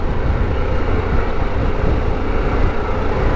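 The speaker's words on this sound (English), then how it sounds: "It's a pretty windy day, pretty gusty." A steady, loud roar of gusty wind buffeting the microphone on a riding Harley-Davidson Pan America 1250 Special motorcycle, constant throughout with no pauses.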